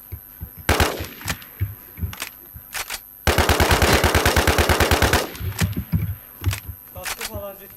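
Video game gunfire: scattered single shots, then a long rapid automatic burst of about two seconds, followed by more sporadic shots, loud and close, with players chatting between bursts.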